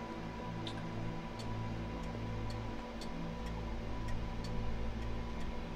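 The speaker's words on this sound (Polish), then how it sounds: "Słyszę bardzo dużo zegarów." Many clocks tick together in the Pineview Drive video game, a steady overlapping pattern of sharp clicks over a low hum, with no one speaking.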